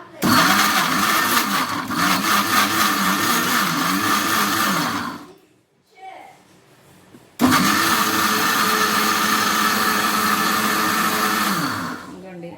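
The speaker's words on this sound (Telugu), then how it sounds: "మూత పెట్టుకుందాం మిక్సీ వేసుకుందాం ఇంకోండి మిక్సీ వేసుకుందాం" A mixer grinder blending coriander tomato chutney whirs loudly for about five seconds, stops briefly, then runs again for another five seconds before winding down.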